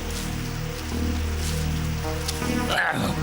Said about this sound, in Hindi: तुम जानते हो मुझे बारिश पसंद नहीं।